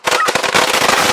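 Fireworks struck with a kayak paddle near a waterway crackle and pop in rapid bursts, a dense string of sharp, loud cracks close by.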